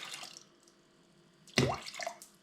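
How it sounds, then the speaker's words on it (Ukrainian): Water poured over dried peas in a jar, a short splashing gush of liquid that starts abruptly and then trickles off, loud and close with no talking. "Це ми льємо води рівно стільки, стільки у нас було гороху"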